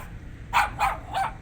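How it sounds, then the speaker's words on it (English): Three sharp, close dog barks in a quick, evenly spaced series over a steady low background hum. "I don't speak dog, but I believe Leo told you to go fuck yourself"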